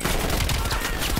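Rapid automatic gunfire in the Cold War campaign of Call of Duty, a dense close burst of shots packed together with no gaps for its whole short length.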